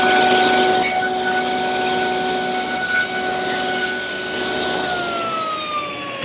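Table saw blade nibbling away the edges of wooden tenons, a steady whining spin with brief rising bursts as each pass cuts, heard up close and loud.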